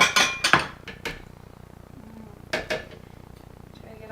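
Black bean brownie batter is scraped from a bowl into a buttered 8x8 inch baking pan, with a few sharp utensil clinks and scrapes in two clusters over a quiet background.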